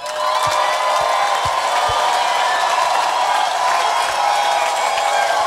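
A church congregation applauding and cheering, a dense, loud, sustained wash of clapping and voices that fills the whole stretch without a break.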